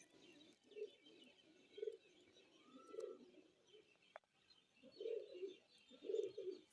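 Pigeons of a fancy breed coo outdoors around dusk, a series of faint, soft, rounded coos spaced about a second apart, with a brief chirp and a light click between them.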